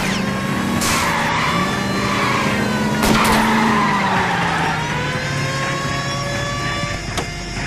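Car skidding in a chase in the video game L.A. Noire, with long loud tire squeals and screeches sliding in pitch over a revving engine, one sharp impact midway, then fading.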